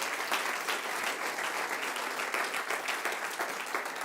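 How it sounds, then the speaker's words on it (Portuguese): A crowd applauds steadily and enthusiastically, a dense wash of clapping that stays at an even level for a few seconds. "dê um aplauso forte para o Senhor Jesus"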